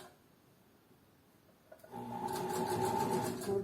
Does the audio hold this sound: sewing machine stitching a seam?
yes